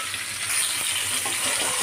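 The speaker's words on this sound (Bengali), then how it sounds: "পটলটা ভেজে নিই" Pointed gourd (potol) fries in a pan in a brief, steady sizzling hiss, close and fairly loud, with a few faint stirring knocks and no speech.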